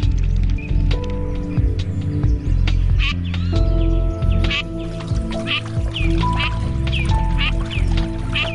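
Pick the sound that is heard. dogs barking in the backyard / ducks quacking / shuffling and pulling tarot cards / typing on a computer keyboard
ducks quacking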